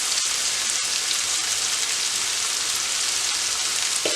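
Onions salted and sautéing in a pan for a Marai Pirattel dish give off a steady, dense hiss and crackle, close and unbroken with a few faint clicks.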